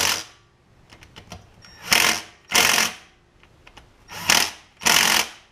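A light impact wrench drives a 5/16 fastener on a riding mower, firing four short rattling bursts close up, separated by quiet gaps with faint clicks.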